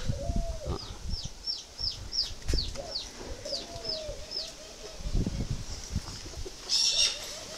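Spotted doves at a dove farm in Hanoi give repeated soft rhythmic coos, with several birds calling close by over a low background of other fowl and farm noise.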